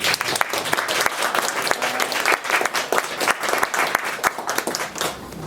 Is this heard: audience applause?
yes